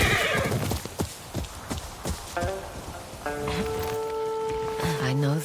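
Horses in the Ghost of Yotei video game clip-clop on the ground with hooves and let out a long whinny near the end, close and clear, with a steady ambient backdrop and voices over part of it.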